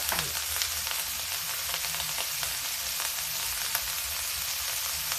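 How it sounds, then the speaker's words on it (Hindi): Onions fry in a pan over high gas heat for chana dal kadhi, giving a steady, moderately quiet sizzle with faint crackles and no talking. "प्याज को भी भूनते हैं, गैस कर देते हैं तेज"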